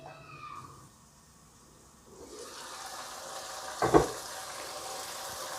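Tomatoes for a chicken achari curry cook in a pan with a soft frying sizzle that grows after a quiet start. A brief louder clatter and splash comes near the end, and no one speaks.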